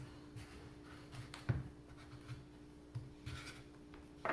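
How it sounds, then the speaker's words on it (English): Knife working through a raw butternut squash to split it lengthwise, quiet scraping and a few soft thuds and cracks spaced across the stretch, close and low in level without talk. "next we're going to cut it in half lengthwise"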